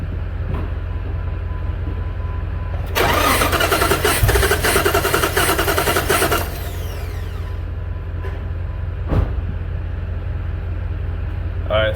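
The 4.7-liter V8 of a 2001 Jeep Grand Cherokee cranks over on the starter during a cylinder 4 compression test, a loud rhythmic whirring churn for about three seconds, then fading to a steady idle-like hum with a few clicks.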